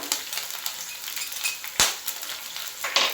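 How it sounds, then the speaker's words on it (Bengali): Chilli sauce, soy sauce and vinegar sizzle in a hot pan for mirch paneer as they are stirred, a steady close frying hiss broken by one sharp spoon clink midway and a few softer scrapes. "এটা আমি একটু নেড়ে নিচ্ছি"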